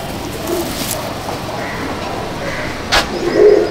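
Pigeons in a loft at Kestopur give soft, fairly faint coos over low background noise, broken by a sharp knock partway through before a louder coo at the end.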